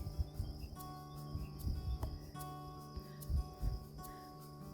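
Crickets chirp steadily through the evening at a coastal campsite, a faint layered insect hum with scattered soft bird calls and low background rumble.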